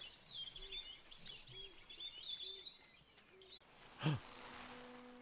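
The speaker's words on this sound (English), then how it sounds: "The birds. are singing again." Birdsong rings out in the garden of a manor house in a botany puzzle game, bright chirps and trills repeating over a soft ambient tone, then a brief swelling chime takes over near the end.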